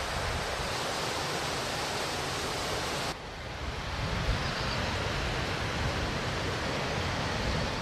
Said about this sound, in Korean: 승천하는 용과 같다 하여 붙여진 이름 비룡폭포